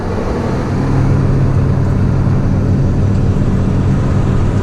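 A truck engine runs while coasting with no throttle or brake applied, a loud, steady low rumble with road noise, close up and continuous with no talking.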